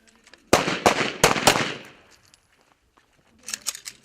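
Fireworks go off as a rapid run of loud, sharp cracks close by. After a short quiet gap, a second, fainter burst of crackling follows.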